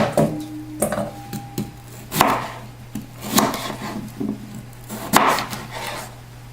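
A knife chops through raw potatoes on a cutting board, slicing them into steak-fry wedges: a series of close, sharp, irregular thuds and cuts with brief pauses, and no talking.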